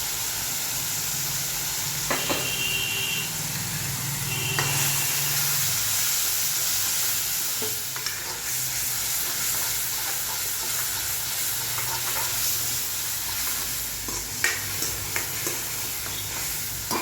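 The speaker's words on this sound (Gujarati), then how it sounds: "ડુંગળી ટમેટાનો વઘાર કરે છે" Onion and tomato tempering fries in a pan as a soft, continuous sizzle and hiss, broken by occasional stirring clinks and clatter, fairly quiet with a steady background hum and no talking.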